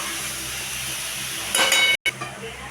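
Ridge gourd and tomato cook with tamarind in a covered pan, making a soft continuous sizzle that swells briefly into a louder burst of crackling and a lid or pan clink before settling back to a low simmer.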